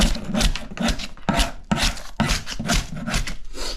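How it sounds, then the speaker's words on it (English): A chisel scrapes dried, bubbled foam-like coating off a surface in a workshop, a series of close, rough rasping strokes in a quick uneven rhythm, each short burst followed by a brief pause, with no speech. "So it bubbles up when it's dry, but it's very easy to get off. I'm using a chisel."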